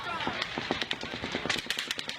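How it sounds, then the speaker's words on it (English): Overlapping gunfire from two guns played back from a recording, rapid uneven pops that are faint and distant, with talk over them. "That's overlapping gunfire."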